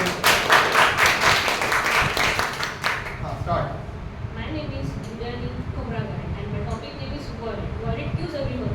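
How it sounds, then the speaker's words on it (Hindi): An audience claps for a woman after the last performance at a public speaking session, brisk and loud for about three seconds before fading into a quieter room with a voice speaking. "तो मैडम के जोरदार तालियां सबसे।"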